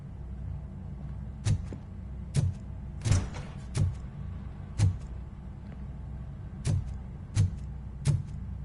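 In the Robocop game on PS5, a door is being opened amid a low mechanical hum, with a series of sharp, evenly spaced metallic clanks and thuds, about nine in all, standing out clearly.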